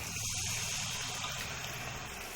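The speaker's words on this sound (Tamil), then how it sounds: "இப்போ இந்த புளி தண்ணியை அதில் சேர்த்துருவோம்." Tamarind water being poured into a clay pot, giving a steady, close gushing liquid sound that runs throughout with no talking.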